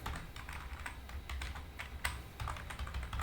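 Quick, light clicking of fingers typing C code on a computer keyboard, with steady keystrokes and occasional firmer taps, faint and close.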